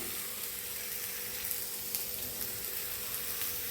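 Spinach, coconut paste and onion sautéing in a pan, a steady soft sizzle with faint crackles and occasional light stirring pops, fairly quiet and without talk.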